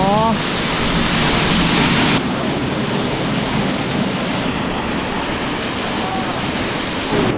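A forest waterfall roars as a loud, constant rush of falling water, heard up close from beneath it on a rainy day.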